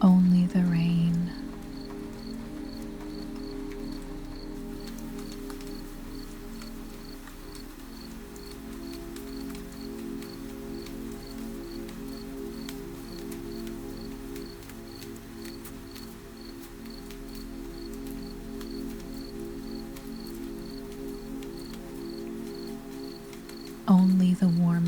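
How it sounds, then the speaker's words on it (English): Crickets chirp in a steady, high repeating pulse through the night, with a soft, constant wash of gentle rain beneath and a low hum, brief voice bursts at the very start and end. "Only the rain."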